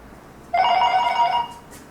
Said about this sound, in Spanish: ¿Dónde está el teléfono?